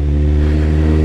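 A Ford Mustang's five-litre V8 revs hard and steadily, a loud, close, continuous roar with a deep rumble and strong low harmonics for the whole second, with no voices over it.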